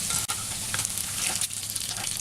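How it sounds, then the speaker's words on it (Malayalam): Rice-flour-coated cauliflower for Cauliflower 65 deep-fries in hot oil, giving a brief, close, steady bubbling sizzle with no talking. "അങ്ങനെ എല്ലാം വറുത്തെടുക്കാം."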